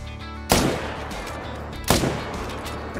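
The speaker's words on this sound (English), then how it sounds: "let's shoot two mythicals" Two loud rifle gunshots from the hunting video game Call of the Wild, about a second and a half apart, each a sharp crack with a decaying tail over a steady low in-game ambience.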